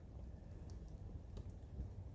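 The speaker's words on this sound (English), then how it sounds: "we still have a slight rain falling" Light rain falls steadily at a campsite with a tent and a crackling fire, making a soft, even patter with a few faint drips close by.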